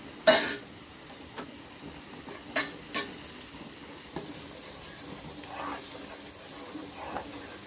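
Split mung dal frying in a pan for payasam, a soft and faint sizzle with occasional stirring scrapes and clinks of the spoon, heard close and without speech.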